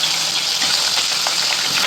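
Eggplant pieces frying in oil with a little salt, giving a steady, close, dense sizzle that continues without a break and without any talk.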